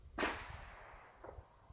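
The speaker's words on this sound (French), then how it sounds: "Ça, c'était des pétards, par contre, on l'a entendu." Firecrackers going off some distance away: one sharp, fairly loud crack, then a second fainter pop about a second later, with no talking.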